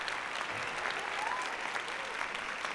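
Live podcast audience in Arizona applauding, a steady wash of clapping from a crowd that holds at an even level throughout, with no clear break or swell.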